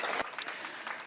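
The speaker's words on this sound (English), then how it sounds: "claps, a round of applause?" An audience at an HIV stigma summit claps at the closing reflections in a fairly quiet, loose round of applause. A few sharper individual claps stand out, with faint murmuring underneath.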